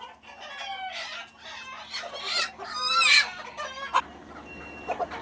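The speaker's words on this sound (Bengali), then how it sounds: "এই মোরগটা আতঙ্কে আছে বুঝছো" A rooster lets out agitated, panicky clucks and squawks in irregular bursts, close and fairly loud, over a quiet low hum.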